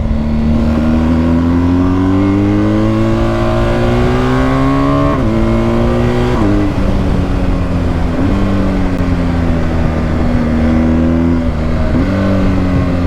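A BMW R1250 GS motorcycle engine pulls hard with a rising, steady drone, easing briefly between pulls as it shifts up and winds up again, loud and close.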